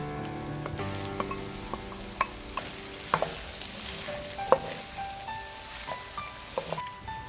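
Potatoes fry in a pan with a soft steady sizzle, broken by scattered clinks and scrapes of stirring; no talking.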